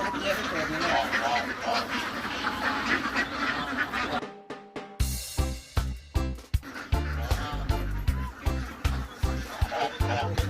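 Ducks quack repeatedly in a busy pen on an egg-laying duck farm, with a burst of rhythmic quacking in the second half over a bed of nearby voices.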